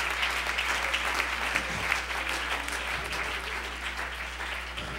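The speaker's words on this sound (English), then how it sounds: "You need to clap your hands and thank God for that." A church congregation claps their hands together in sustained, dense applause that fades slightly toward the end, with a low steady hum beneath and no clear speech.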